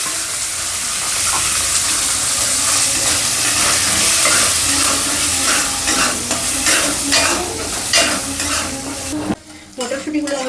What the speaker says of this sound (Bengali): তেলের মধ্যে আমি মটরশুঁটিগুলোকে একটু ভেজে নিচ্ছি